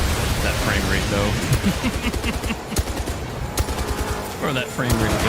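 Explosions and gunfire burst through gameplay of the video game 007 First Light, a thick rolling barrage of blasts and rapid shots while players talk excitedly over it.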